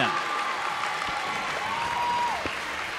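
Holy Angels fans cheering and clapping at a high school volleyball game, a dense crowd roar with applause sustained throughout while an announcer's voice rises above it.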